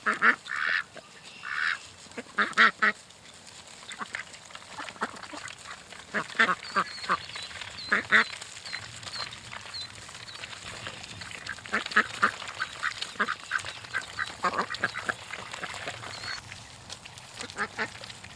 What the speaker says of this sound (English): Actually, chocolate duck is the one that's leading them.